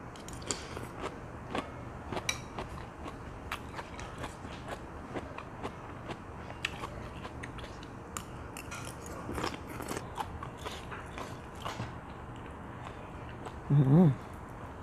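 Crunchy bites and chewing on bitter mushrooms eaten with hot chili paste, a steady run of small close crisp clicks and mouth sounds with a brief louder smack near the end, no talking.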